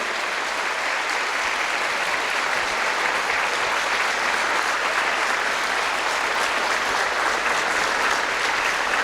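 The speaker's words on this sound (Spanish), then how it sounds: "los recibimos con un aplauso" A church congregation applauds to welcome people coming up to the front, a steady, dense roar of many hands clapping that continues unbroken at full strength throughout.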